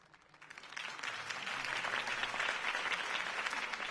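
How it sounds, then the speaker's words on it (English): Video game crowd applause swells from a quiet start into steady, dense clapping that fills the scene and holds loud to the end. "could have heard that applause"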